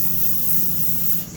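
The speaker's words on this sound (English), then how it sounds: "spray my air fryers to make sure it doesn't stick" A short, steady hiss of cooking spray misted into an air fryer basket before potatoes go in, close and continuous, tapering at the end.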